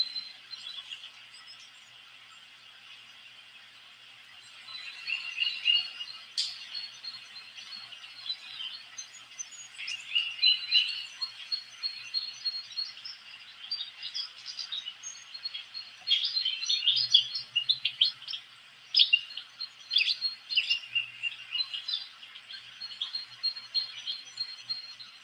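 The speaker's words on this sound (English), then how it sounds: "Had some big birds come out just then." Birds chirping and calling outdoors, a steady layer of high, busy tweets with louder bursts scattered throughout, heard alone without talk.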